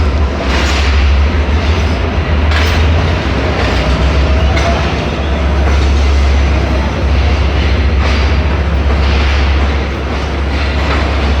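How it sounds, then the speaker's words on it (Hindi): The Karakoram Express rolls loudly into a main station platform in Pakistan, a steady heavy rumble of wheels and carriages with rhythmic clatter and occasional squeal, close and continuous throughout. "अलग ही वाइब है जब कोई ट्रेन मेन स्टेशन के प्लेटफार्म पे अप्रोच बनाती है"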